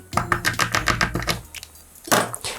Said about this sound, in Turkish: Şimdi soğanı doğrayalım.